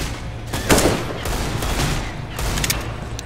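Rapid bursts of gunfire crackle in Left 4 Dead 2's Dead Center campaign on Expert difficulty, with a heavy volley near the start and further scattered shots close by.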